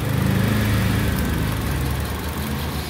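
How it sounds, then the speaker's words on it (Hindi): Car engine idling roughly with one ignition coil removed, a close steady low rumble with an uneven, lumpy pulse from the missing cylinder, no voices. "गाड़ी में मिसिंग आ गई।"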